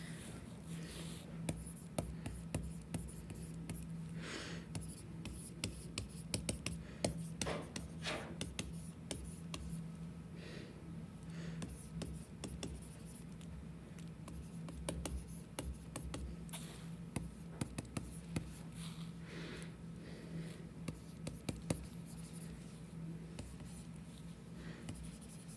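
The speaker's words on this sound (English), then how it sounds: "let's just make sure to just write this as a note to ourselves" A pen scratches and taps across paper as chemistry notes are written by hand, a long run of soft, irregular strokes, quiet and close with no talking.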